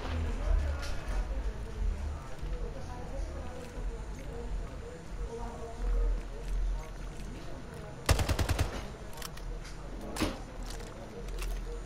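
Carbine fire in the shooter Splitgate: a sharp, rapid volley of shots around the eight-second mark, then another single crack, over a low background game rumble with a voice talking at times.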